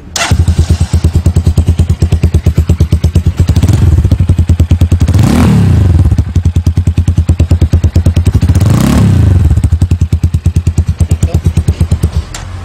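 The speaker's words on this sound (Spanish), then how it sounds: "Un lindo sonido tiene este escape" Ceccato 250 X motorcycle with a modified conical exhaust, idling close by in a loud, steady, lumpy thump, with two brief revs rising and falling.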